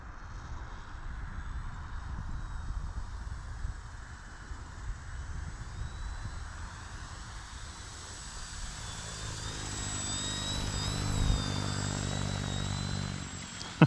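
A Durafly AUTO-G2 V2 radio-controlled autogyro flies in the evening, its small electric motor and spinning rotor giving a faint, wavering whine that rises in pitch and grows nearer and louder toward the end, with no talking.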